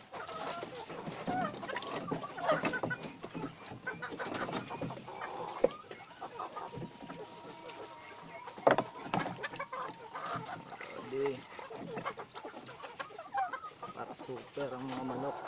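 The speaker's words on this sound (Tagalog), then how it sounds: "Super ang mga manok." Chickens cluck and call intermittently around a feeding area on a poultry farm, scattered nearby clucks over a soft background, with someone talking at times.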